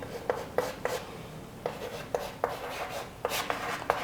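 Chalk or marker writing an example on a classroom board, a series of short faint scratchy strokes and taps spread irregularly over a few seconds, with no talk.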